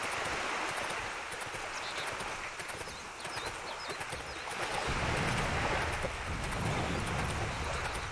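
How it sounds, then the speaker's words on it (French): Ocean waves along the coast in the video game Sacred 2, a steady wash of surf with a swell in the latter half, alongside rhythmic hoofbeats and faint bird chirps. "c'est marrant ce bruit des vagues"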